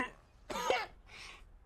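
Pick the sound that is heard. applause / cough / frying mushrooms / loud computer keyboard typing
cough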